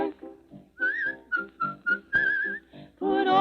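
Someone whistles a bouncy tune in short phrases and sustained notes, close and clear, with no other sounds.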